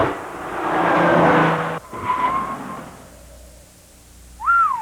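Nissan 300ZX Turbo sports car from a 1985 TV commercial, heard as a loud engine whoosh that builds and then cuts off sharply, followed by a higher revving pass and a brief rising whine near the end.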